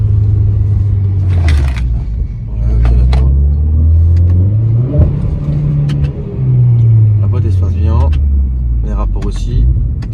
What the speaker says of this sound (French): Je veux juste voir un peu une ligne droite, si je peux un peu accélérer, freiner bien et piler.